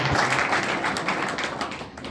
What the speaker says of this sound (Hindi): जोरदार ताली से इनका स्वागत करूंगा